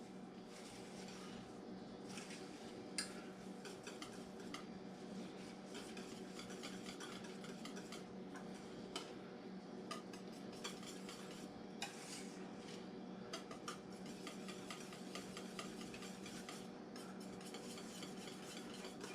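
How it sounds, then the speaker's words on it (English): A utensil stirs coconut extract and toasted coconut into a coconut cream pie filling in a bowl, giving a steady, continuous scraping and mixing sound with light clinks, close and alone without talk. "Stir that all in there real good."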